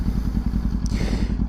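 A motorcycle engine idling with a steady low throb, then revved briefly as the throttle twists, loud and close with no talk over it.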